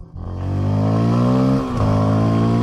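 A Rieju Aventura 307 adventure motorcycle engine revs up hard and loud close by, its note rising steadily, with a brief dip like a gear change before pulling strongly again.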